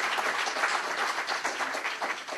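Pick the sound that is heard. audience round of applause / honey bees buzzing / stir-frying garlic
audience round of applause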